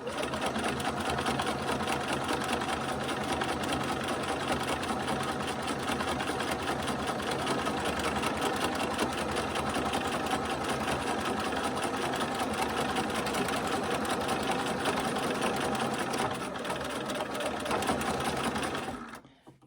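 A sewing machine fitted with a walking foot stitches through several layers of fabric for a bag and case, a long unbroken, evenly pulsing mechanical whir that stays close and steady until it stops at the end, with no voices.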